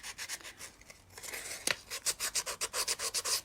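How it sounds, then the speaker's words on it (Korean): Sandpaper held in the hand rubs the angled edges of a piece of wood, making a steady run of close, rhythmic scratchy strokes that quicken toward the end, with no talking. "사포를 손에 쥐고 이렇게 문질러 주시면 돼요."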